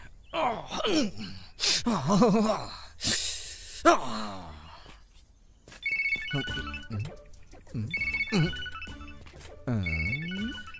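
A mobile phone ringtone plays in a repeating electronic pattern over the second half, following a stretch of gasps and sighs, with a voice speaking nearby.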